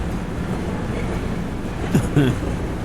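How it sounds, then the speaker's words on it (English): A train in the truck-driving game Truck World Australia rumbles steadily in the background, a low continuous rolling drone, with a brief voice-like sound near the end. "You can hear that train in the background there."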